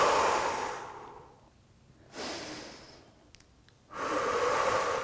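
Slow, deep yoga breaths during an isometric stretch, three long airy exhales and inhales close to the microphone, separated by quiet pauses.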